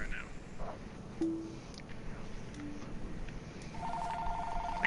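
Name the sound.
phone ringing in video game Pure Farming 2018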